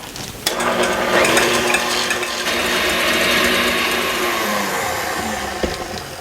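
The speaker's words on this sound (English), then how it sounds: "I'm going to beat the egg whites until they're stiff" An electric mixer beats egg whites with cream of tartar until stiff, a steady whirring motor hum that runs without a break for several seconds, close and fairly loud, with no talking.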